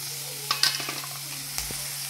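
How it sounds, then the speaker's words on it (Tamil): Sesbania (agathi) flowers with turmeric and salt sizzle softly in a pan while being stirred, with a few sharp clicks of a utensil against the pan over a steady low hiss. "ஃப்ரெண்ட்ஸ் அப்புறம் நல்லா சாட்டே பண்ணுங்க"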